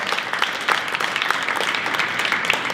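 An audience applauds at an awards banquet, a dense, steady patter of many hands clapping close by throughout.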